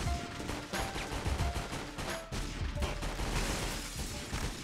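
Dense gunfire in the PS2 video game 50 Cent: Bulletproof, rapid overlapping shots and bursts crackling continuously and loudly through the whole stretch.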